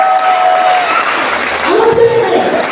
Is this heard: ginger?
no